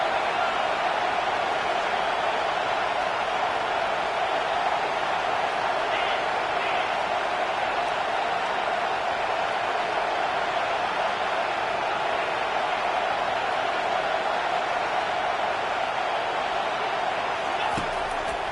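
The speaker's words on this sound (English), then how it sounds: "this crowd is tearing the lid off this place" A stadium crowd roars loudly and steadily at an American football game on third down, a dense wash of cheering that runs the whole time beneath a commentator's play-by-play.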